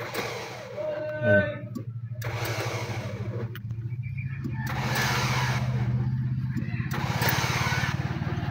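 Gasoline Mitsubishi Adventure with a starter fault, cranking in uneven bursts that fail to catch while someone talks over it.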